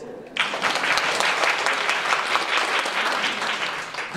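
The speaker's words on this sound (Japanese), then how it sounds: "拍手です。" Seminar audience bursting into applause, a loud, dense wash of clapping that starts abruptly and holds steady for about four seconds, close and full with no talking over it.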